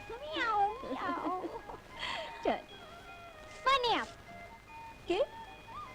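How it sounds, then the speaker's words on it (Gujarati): A cat meows several times in short, rising and falling cries, spaced a second or so apart, close by over faint background hiss. "મારી નટખટ વાલી બિલાડી"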